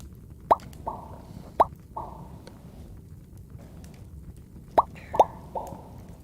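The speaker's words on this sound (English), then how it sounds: "Love that beautiful popping sound." Several short, bright pops, singly and in a quick pair, each followed by a brief tone, sound over a quiet background in a game-style sound effect.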